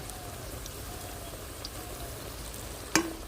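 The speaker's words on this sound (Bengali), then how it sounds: "এই চপগুলো যত কড়া করে ভাজবো তত খেতে স্বাদ হবে" Helencha greens chops frying in oil, a soft continuous sizzle like light rain, with a single sharp clink near the end.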